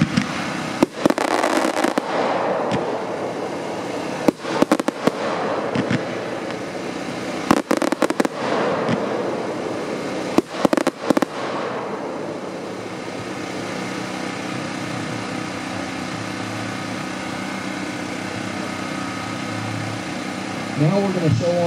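A 50-shot consumer fan cake firework assortment fires in sharp loud cracks and bursts spaced through the first half, then trails off into a steady rumbling background with a faint voice near the end.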